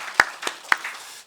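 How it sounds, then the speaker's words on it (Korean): A church congregation at a Sunday service at Toegyewon Holiness Church claps, a few separate sharp hand claps spaced unevenly over about a second, near and moderately loud, with no voices. "더 큰 박수 한번 합시다."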